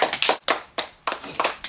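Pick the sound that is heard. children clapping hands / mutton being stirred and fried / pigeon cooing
children clapping hands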